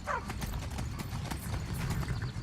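Horse hooves clip-clop in Skyrim, a quick steady patter of hoofbeats with a brief neigh at the start, heard over a low rumbling background.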